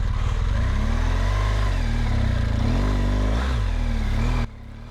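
A motorcycle engine revs hard and loud nearby while climbing a hill, pitch rising and wavering as it strains, then cuts off abruptly near the end.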